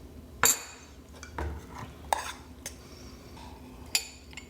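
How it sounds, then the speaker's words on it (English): A metal spoon clinks against a bowl while scooping oatmeal, giving a few scattered taps and scrapes at close range in a quiet kitchen. "Just spooning in my oatmeal."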